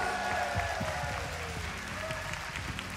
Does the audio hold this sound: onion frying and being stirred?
no